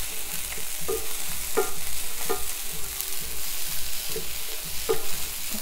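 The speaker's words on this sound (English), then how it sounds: "And just stir fry it." Vegetables with scallions are stir-fried in a pan, a steady close sizzle broken by regular scraping strokes of a spatula roughly every second.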